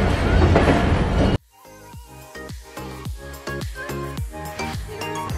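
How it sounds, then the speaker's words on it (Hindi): Train wheels clattering over changing tracks in a Karachi rail yard, Pakistan, a steady series of rhythmic clickety-clack impacts close by after a brief burst of loud broadband noise at the start. "कराची यार्ड में बदलते हुए ट्रैक्स की आवाजें हमेशा से ही मुझे बहुत अच्छी लगती हैं"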